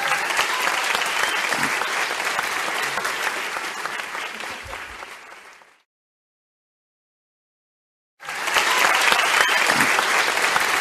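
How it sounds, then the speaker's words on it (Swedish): A live audience at a Swedish spoken-word and poetry event claps loudly and continuously, fades out, then after a silent gap bursts back into full sustained applause. "Så en stor applåd för Jodi."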